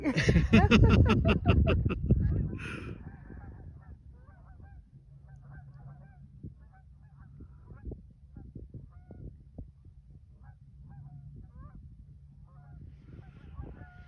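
Geese honking in a loud, dense burst over the first few seconds while apparently being chased by a dog through water, then fading to scattered, fainter calls and splashy rustling outdoors.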